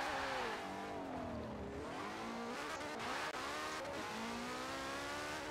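A car races in the video game Forza Horizon 4, its engine revving and shifting through rising and falling pitches, with tyres squealing briefly. It stays steady and moderately loud throughout.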